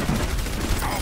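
A short burst of rapid gunfire in an Overwatch match, loud and continuous automatic shots over the brief moment.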